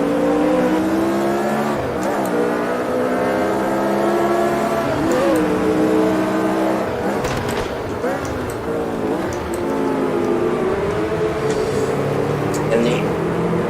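A Lotus 49C race car in Automobilista 2 on the Jerez circuit, its engine loud and close with a high rasping tone that rises and falls through repeated upshifts and downshifts, steady throughout.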